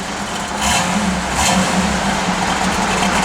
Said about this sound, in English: Give a little rev.